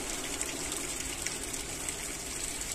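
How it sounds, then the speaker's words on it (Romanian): Boiled water is poured over couscous seasoned with duck fat, a soft, steady gushing stream heard close and fairly quiet, with nothing else over it. "Punem apă fiartă"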